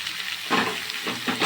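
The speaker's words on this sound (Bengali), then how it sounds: "তো আমি এখন পালকগুলো দিয়ে দেব।" Chopped spinach goes into spiced chicken already fried in masala oil in a Bengali palak chicken dish, giving a steady close sizzle that flares in several loud hissing bursts as the leaves hit the hot pan.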